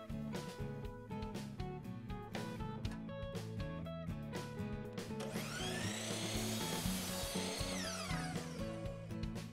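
A power saw in a woodworking shop cuts wood strips for a bird feeder, with a run of rapid rhythmic short cuts followed by a rising whine as the blade spins up and winds down, loud and close.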